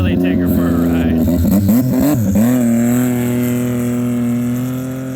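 A car on a test pass revs loudly and close, its engine note rising and settling into a sustained droning hum as it pulls away.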